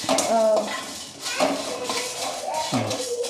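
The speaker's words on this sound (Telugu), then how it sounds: "కలుపుతూ ఉండాలి ఒక టూ మినిట్స్ వరకు లేకపోతే మాడిపోతాయి" Food being stirred in a pan while making chicken fry, with metal spatula scrapes and clinks against the pan in irregular strokes close by, over a faint sizzle.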